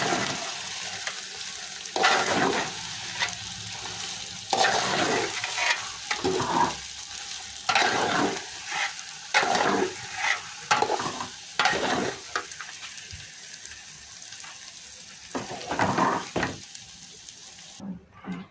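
Food being stirred and mixed in a hot pan while cooking a home meal for iftar, with repeated scraping strokes over a steady sizzle and no talk.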